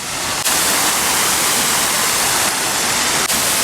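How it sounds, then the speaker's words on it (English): A water fountain at a seaside town in Spain splashes in a loud, steady hiss of falling water, close and unbroken apart from a couple of slight dips. "So just see this next to the fountain."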